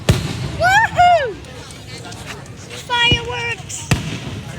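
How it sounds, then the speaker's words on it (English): Fourth of July fireworks go off outdoors, with whistling rockets rising in pitch and then sharp bangs bursting three times at irregular gaps, fairly close and loud. "Fireworks."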